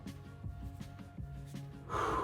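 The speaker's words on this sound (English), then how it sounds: "So as you're breathing in, you're kind of lifting up." A single deep inhalation during a breathing exercise, drawn in through the nose and mouth with soft airy rasps, close and quiet, rising into a louder breathy rush at the end.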